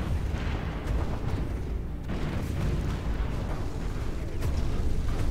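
Space fleet battle explosions in Stellaris, a continuous rumbling wash of booms and bursts rolling on without pause, loud and dense, with no clear speech.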